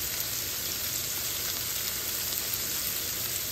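Shrimp fries in a pan with a steady, dense sizzle that holds at an even level throughout and carries no voices.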